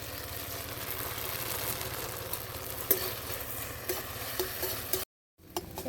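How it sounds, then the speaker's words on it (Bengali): Tomato pizza sauce with chopped garlic and ginger cooks in a wok, a soft continuous sizzle with light stirring scrapes, faint and without talk, cutting out briefly near the end. "দেখুন বন্ধুরা আমি কড়াইতে পিৎজা সস বানিয়ে নিচ্ছি"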